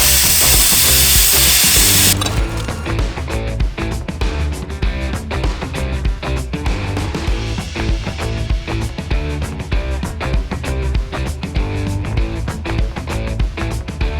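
A power tool cuts notches out of a metal steering bracket on a mud mower rack-and-pinion build: a brief hissing burst, then a close, loud, continuous grinding rasp with rapid rhythmic pulsing throughout.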